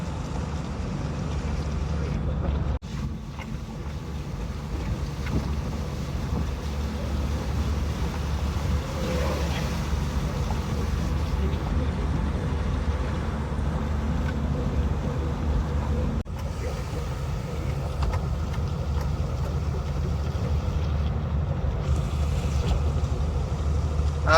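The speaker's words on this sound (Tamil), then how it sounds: "சாரல் அடிக்குது நல்லா ஜில்லுன்னு காத்து வேற அடிக்குதா" Steady wind gusting over a soft continuous hiss of light rain, with a low rumble underneath and no voices.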